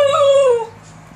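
A dachshund gives a single drawn-out, high yelping bark that trails into a whine, loud and close, with no talk over it.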